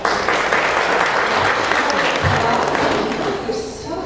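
An audience at a Santa Clarita Republican Women event bursts into loud, sustained applause, dense clapping that slowly thins toward the end.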